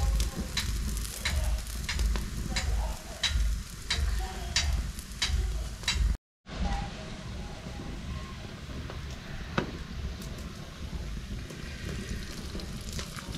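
Makki ki roti, a maize flatbread, cooks on a hot griddle in a traditional village kitchen, giving a steady close sizzle with faint crackles throughout and a brief gap midway.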